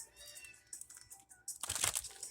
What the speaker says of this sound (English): I promise there's no kittens being tortured in the background